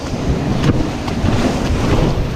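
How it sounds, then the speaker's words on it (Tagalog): Strong ocean waves churn and crash in a continuous loud wash, mixed with heavy wind buffeting against the microphone on a rough stretch of coast. "Lalakas ng alon."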